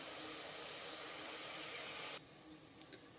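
Masala with ginger-garlic paste sizzling and hissing steadily in a pan while goat head curry is cooked, a loud continuous sizzle that drops off sharply near the end, leaving a quieter hiss with a couple of faint clinks.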